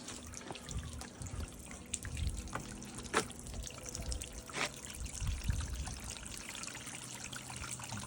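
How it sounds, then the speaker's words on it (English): Clean tap water runs and splashes steadily through a power sluice, with irregular trickles, drips and small clattering knocks, fairly quiet and close by. "we'll run the sluice with some clean water"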